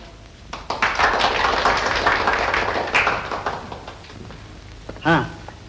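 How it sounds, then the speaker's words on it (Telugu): Audience applause at a Telugu stage show competition, dense clapping rising quickly and holding steady for several seconds before thinning out, with a brief voice near the end. "చాలు చాలు చప్పట్లు"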